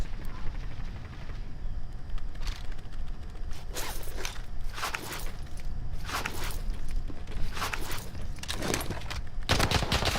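Bursts of gunfire ring out in a Call of Duty Warzone match, a string of sharp shots spaced irregularly over steady background game noise, some close and loud, others fainter.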